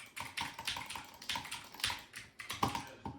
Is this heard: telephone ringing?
no